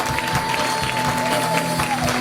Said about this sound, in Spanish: Y levante ese aplauso de victoria.